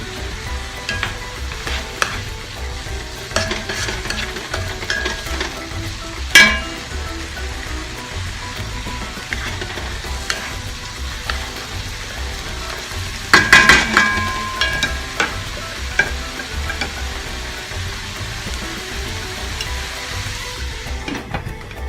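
Chicken and onions fry loudly on a tawa over higher heat, a continuous dense sizzle with crackles and sharp spatters, plus clattering utensil strikes and a burst of louder stirring midway, no talk.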